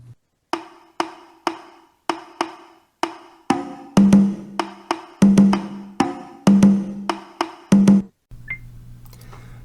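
A metronome ticking with a clave playing a 3-2 Afro-Cuban pattern, sharp woody clicks in an even pulse, with a layered tone on some strikes, ending in a low sustained hum.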